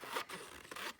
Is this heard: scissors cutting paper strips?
yes